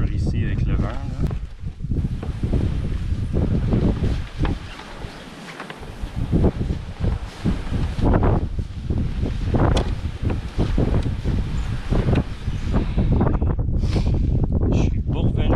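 Strong wind at a river mouth during a solo canoe portage in the Mastigouche wildlife reserve, buffeting the microphone in loud, gusty roaring waves throughout while someone talks intermittently underneath.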